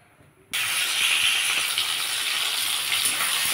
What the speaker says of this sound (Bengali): আমি চিংড়ি মাছটা ভেজে নেব